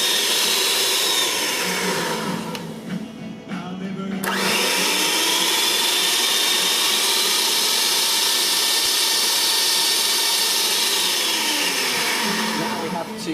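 Electric mixer whirring steadily through Sri Lankan Christmas cake batter, beating it until pale; a continuous loud motor drone with a brief dip partway through, no talk over it.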